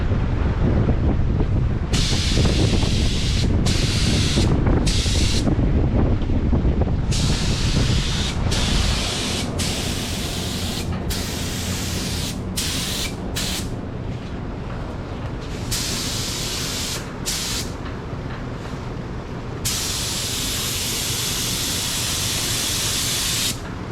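A DeVilbiss FLG4 spray gun hisses out paint in long, steady bursts with short pauses between passes, loud and close, with barely any talk.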